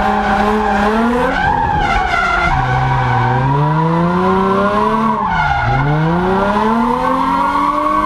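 A car drifting around a curve, its tires skidding and squealing in long continuous wails that bend up and down in pitch over a steady engine drone, loud and close throughout with no talking.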